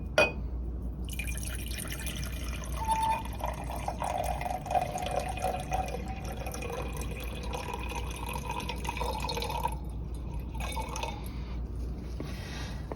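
Liquid streams into a laboratory beaker up to about the halfway mark, a soft, continuous trickling and splashing at close range, faint and steady, with brief gaps near the end.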